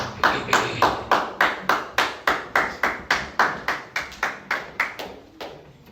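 A church congregation claps together in a steady, loud rhythm of about three claps per second to acclaim the Lord, with no audible cheering or voices.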